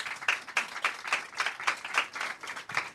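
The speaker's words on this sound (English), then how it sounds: "Give these gentlemen a round of applause" Audience applause for a panel of men at a discussion event, sparse, uneven clapping with individual claps standing out at a moderate, steady level throughout.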